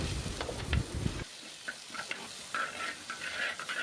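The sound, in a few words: sautéing curry leaves and green chillies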